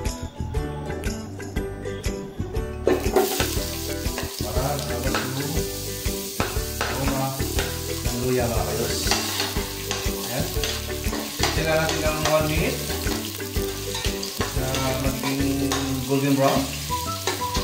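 Ginger pieces drop into hot oil in a pan for Filipino sinigang with milkfish, sizzling loudly and continuously with scraping stirs throughout, while a voice speaks briefly.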